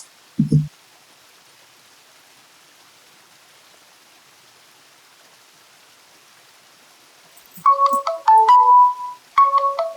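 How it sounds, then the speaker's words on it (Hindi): A phone ringtone starts after a long near-silent stretch, a melodic electronic tune playing in loud bursts near the end, preceded by a brief thump. "आपके ऑफिस से फोन आ रहा है"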